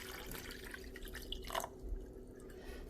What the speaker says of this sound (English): This is the water.